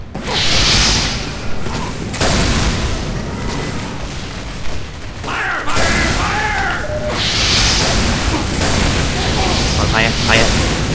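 Rocket launcher blasts and whooshes in Team Fortress 2 burst loud and close amid chaotic game noise, with booms and swishes recurring through the fight while someone talks over parts.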